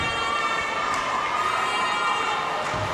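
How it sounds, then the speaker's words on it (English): Fans blow sustained horns at a women's ice hockey game in a Hong Kong shopping center rink, a steady blaring drone over loud crowd cheering and chatter. "I think the horns are going to be silenced by the shopping center staff here"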